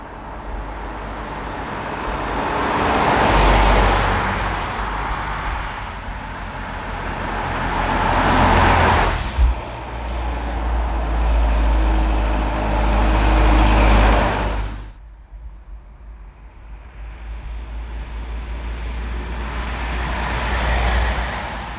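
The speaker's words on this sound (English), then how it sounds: "Starting an engine right there." Engine noise from a 2018 Volvo XC60 SUV is heard through the cabin as the engine runs, with repeated rises and falls of drive and road noise and a low, steady rumble throughout. No one speaks.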